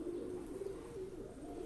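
Pigeons kept as pets coo softly in a low, continuous warbling murmur, fairly faint and steady with no other sounds.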